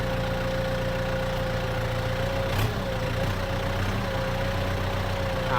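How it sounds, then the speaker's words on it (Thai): A used 2019 Kubota M7040 tractor diesel idles steadily nearby, a constant low rumble with a faint whine and one brief knock partway through. "รถไถคูปต้านะครับ M7040 นะครับคันนี้"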